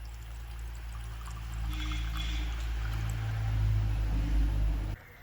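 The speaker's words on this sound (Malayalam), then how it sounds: "ഇനി നമുക്ക് കുറച്ച് വെള്ളം ഒഴിച്ചെടുക്കാം." Water is poured steadily into a coconut shell set on a well-lit stove fire, a smooth, close trickling stream over a low hum that cuts off abruptly near the end.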